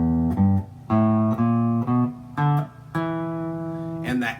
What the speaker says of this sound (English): real quickly, the E blues scale would sound like this